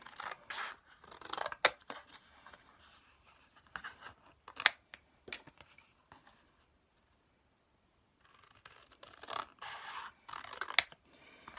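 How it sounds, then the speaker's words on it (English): Scissors cutting out artist trading cards from paper around a tracer piece, with close, quiet snips and crisp blade closes in irregular clusters, a pause of silence partway through, then more snipping. "using my tracer piece, cut out my trading cards"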